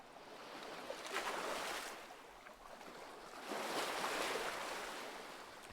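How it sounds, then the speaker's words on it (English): Gentle waves and lapping water in the Nancy Drew: Sea of Darkness video game, set in Iceland, a soft steady wash that swells twice and recedes, with no voices. "The water sounds so calming."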